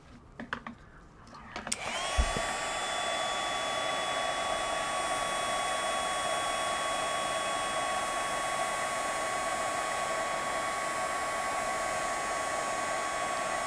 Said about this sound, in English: I'm going to emboss those final two corners.